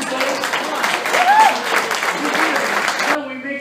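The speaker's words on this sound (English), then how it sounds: "Give him a round of applause." Contest audience claps for a contestant, steady mid-loud applause with a brief whistle partway through, cut off abruptly near the end as a voice speaks.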